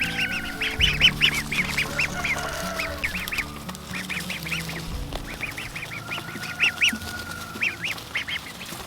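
Ducklings feeding inside a chicken tractor make repeated bursts of quacking and peeping calls over a background of shuffling and pecking, fairly close and lively throughout.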